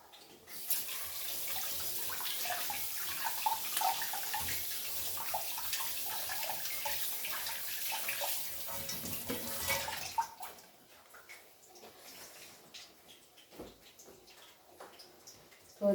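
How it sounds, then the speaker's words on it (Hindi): Tap water runs and splashes steadily in a kitchen sink as hands are washed for about ten seconds, then the flow stops, leaving faint drips and small handling noises. "अब मैं धो लूँ हाथ"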